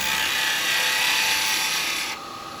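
A large segmented wooden sweet jar spins on a lathe while abrasive sanding rubs steadily against it, a loud, even hiss that drops in level near the end.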